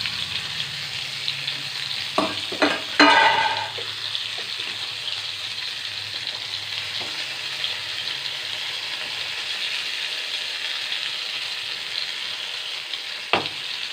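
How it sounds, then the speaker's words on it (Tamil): Eggplant and curry leaves fry in hot oil in a pan, giving a steady close sizzle with a few louder clatters and stirring bumps near the start, and no one talking. "கறிவேப்பிலை நல்லா பொரிஞ்ச உடனே இந்த கத்திரிக்காயெல்லாம் எண்ணெய் ஊற்றி எடுத்து"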